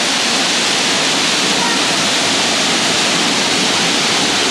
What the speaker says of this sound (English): We officially made it to your waterfall.